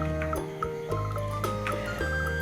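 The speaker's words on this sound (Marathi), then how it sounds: "बेडूक मोठ्याने डराव डराव आवाज करून पावसाचे स्वागत" A frog croaks loudly and close by in a rainy-season setting, giving several rapid throaty calls in quick succession with a low continuous chorus underneath.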